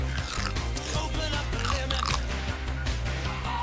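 Crunchy food is chewed close to the mouth, rapid crackling bites and wet chewing running continuously over a steady background murmur.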